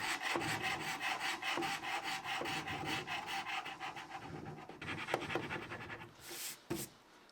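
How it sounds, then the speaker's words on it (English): A carbide scraper strips old finish from a cocktail cabinet top in a series of close, rhythmic rasping strokes that run steadily before ending in a couple of sharper scrapes. "so I used my carbide scraper instead, and that worked well too"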